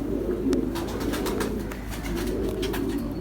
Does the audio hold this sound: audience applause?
no